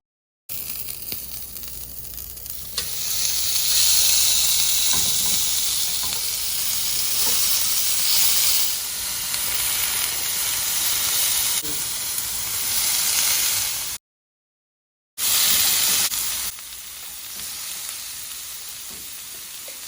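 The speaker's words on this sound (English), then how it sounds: "I'm just gonna go ahead and start placing them on to grill" Shrimp skewers sizzle on a hot grill pan in a steady, loud, close crackling hiss that runs almost unbroken, with one short silent gap near the end and no talking.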